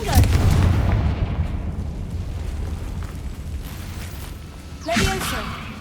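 A Confringo fire spell blast in the Hogwarts Legacy video game, a heavy booming explosion that rumbles and decays for a few seconds, followed by a second sharper burst near the end.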